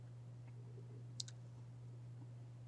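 A single sharp mouse click sounds once near the middle, close and brief, over a steady low electrical hum in a quiet room.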